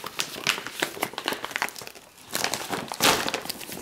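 Sealed pouch of a Pork Rib, Boneless, Imitation MRE ration being peeled open, a close, loud run of crinkling, crunching plastic with bursts of tearing, a brief lull just past midway, then a stronger rip.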